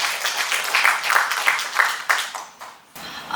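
Audience clapping welcomes the third presenter, a youth representative, at a sustainable-development youth forum; moderate, dense applause with scattered individual claps that thins and fades toward the end.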